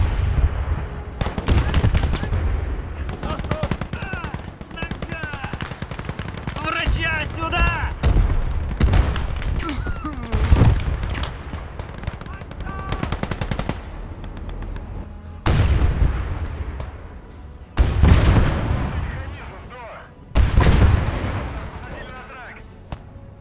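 Artillery guns firing in the World War II video game Gates of Hell: Ostfront during a German offensive, heavy booms and gunfire cracks repeating irregularly, loud and close, with distant rumbles, clatter and in-game voices shouting.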